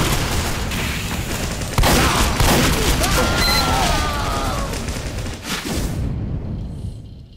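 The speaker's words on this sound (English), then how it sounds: "Like I was shooting him and nothing was happening." Dense bursts of gunfire and booming impacts from a Team Fortress 2 match, loud and continuous, with a brief voice under the shooting before the sound cuts off.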